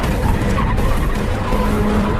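A car pulling ahead and skidding to a stop, a loud continuous rush of tire scrub and engine noise with a faint squeal rising through it, close and unbroken throughout.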